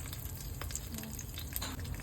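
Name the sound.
rice frying in a pan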